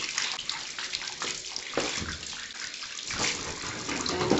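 Running water rinses cleaning brushes and gloves after scrubbing soap scum from a bucket, a steady close splashing wash with brief louder gushes as items pass under the stream.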